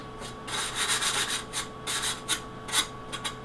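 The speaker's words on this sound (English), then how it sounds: "I'm just going to go around the edges and sand that up." The edges of a glass sheet are sanded by hand in a run of rough scraping strokes, close and fairly loud, in uneven bursts with short pauses.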